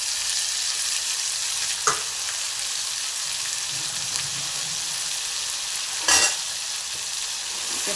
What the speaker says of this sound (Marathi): आता हे सगळं वाटण याच्यात परतून घ्यायचं.